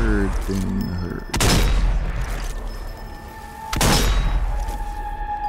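Two heavy sniper rifle shots boom in the zombie shooter Zombie Army 4, each a sharp blast followed by a long rumbling echo, spaced a few seconds apart over a low game backdrop.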